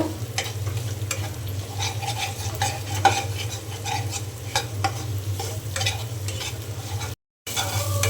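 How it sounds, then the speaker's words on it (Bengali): Eggs scrambled and fried in a pan for biryani: a steady close sizzle with scraping stirring strokes throughout, then a brief gap before the frying resumes. "ডিমটা আমি খুব ভালো করে এইভাবে ঝুড়ি ঝুড়ি করে নেব"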